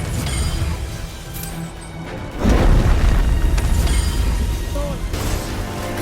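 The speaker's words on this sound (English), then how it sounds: "before the floor collapses" Floor collapsing in the God of War (2018) video game: a heavy rumbling boom breaks in partway through and holds as a loud, sustained crashing roar over a low, droning background.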